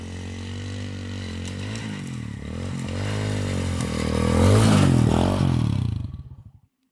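A gas moped-style mini bike rides along a forest road, its small engine buzzing and rattling as revs rise to a loud peak, then cutting off abruptly.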